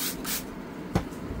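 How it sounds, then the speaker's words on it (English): LCD cleaner is sprayed onto napkins in a few short hissing bursts, two quick sprays then a brief sharper one, close and alone. "I spray it at the napkins,"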